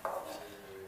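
Metal lid lifted off a pot of cooking ridge gourd and chana dal masala curry, a single short clink followed by a fading ring, close and quiet.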